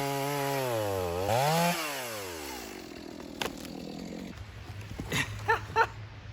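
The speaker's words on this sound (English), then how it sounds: "It's crazy how fast a little bit of dirt can dull a chainsaw chain." A chainsaw with a dirt-dulled chain revs up and down in loud rising and falling whines while cutting wood, then settles into a steadier drone broken by a few sharp crackles.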